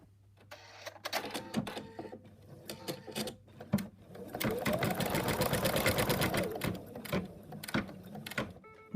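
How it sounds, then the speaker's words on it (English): An embroidery machine stitches an elephant trunk applique for an in-the-hoop project, a rapid mechanical rattling hum that starts in short bursts and then runs steadily, close and clear. "and then we're going to stitch it."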